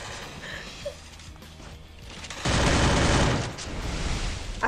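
Video game gunfire erupts partway through, a dense loud burst of rapid shots that fades to scattered noise, following a quieter stretch of game sounds with no speech.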